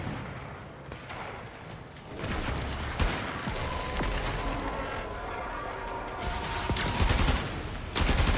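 Rapid gunfire and blasts in the video game Warframe: sustained loud bursts of shooting roll almost continuously, building after the first couple of seconds with sharp cracks punctuating a dense, roaring barrage.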